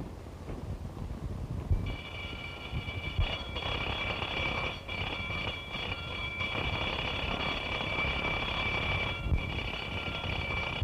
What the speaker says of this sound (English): Sound the alarm, quick.